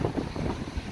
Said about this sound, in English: Sorry about the wind. It's pretty windy here right now.